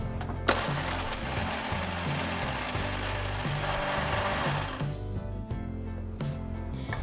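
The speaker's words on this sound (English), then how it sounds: "we'll grind chuara to a powder form" An electric grinder pulverizing dried dates (chuara) into powder, a loud rattling, clattering whir with chunky pulsing beats that cuts off near five seconds, leaving a quieter mechanical hum.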